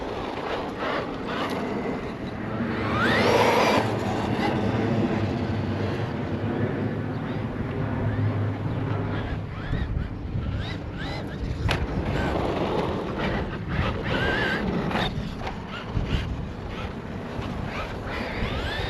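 A Traxxas Rustler 2WD VX3 brushless RC truck drives outdoors doing wheelies, its motor whine and tire noise loud and steady for the whole stretch, with wind buffeting the microphone throughout.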